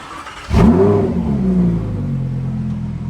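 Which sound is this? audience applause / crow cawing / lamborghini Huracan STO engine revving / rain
lamborghini Huracan STO engine revving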